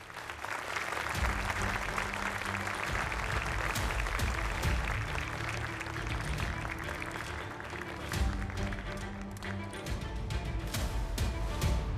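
Sustained applause fills an award ceremony hall as a speaker is welcomed, dense and even clapping from a large audience continuing at steady volume with no talk over it.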